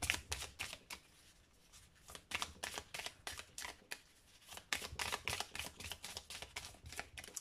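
Lenormand fairy tale oracle cards are shuffled and handled close up, producing rapid, soft papery flicks and snaps in quick runs that pause briefly midway, with no talking.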